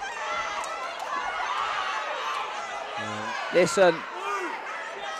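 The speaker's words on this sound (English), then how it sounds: "it's got this crowd going absolutely wild behind us here" Crowd at a boxing fight night roaring and chattering steadily throughout, a dense wash of cheering with brief louder shouts near the end, while a commentator talks over it.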